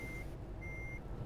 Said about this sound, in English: You probably heard me going into reverse.